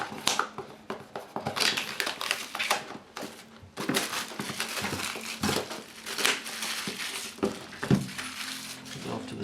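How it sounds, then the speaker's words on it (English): Protective plastic film being peeled and cut with a small knife from an Apple 24-inch Cinema Display, giving close crinkling, crackling and tearing in irregular bursts. "Just take it quickly with the little knife there and peel the plastic off."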